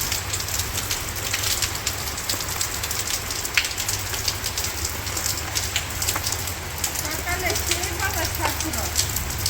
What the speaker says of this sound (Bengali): আমাদের সকালে বৃষ্টিটা ভালোই লাগতেছে।